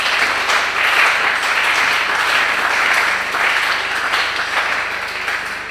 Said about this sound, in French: bénis Dieu par des acclamations.